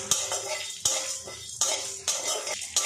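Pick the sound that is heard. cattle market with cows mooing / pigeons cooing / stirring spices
stirring spices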